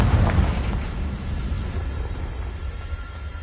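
A Confringo blasting spell detonating in Hogwarts Legacy, a heavy low boom with a rumbling tail that fades slowly over a few seconds.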